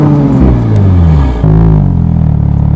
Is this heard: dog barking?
no